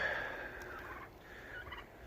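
Turkeys on a farm give off a steady, low-level gobbling chatter at a moderate distance, with a few brighter calls rising out of the mix and no voices.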